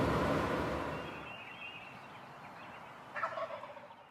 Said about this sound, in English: I located this bird before he located me. He was in a big oak tree and roosted by himself apparently.